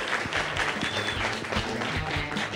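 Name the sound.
applause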